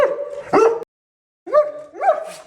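A dog gives a couple of short, whiny barks and yips at night outdoors, close by, separated by a brief silence.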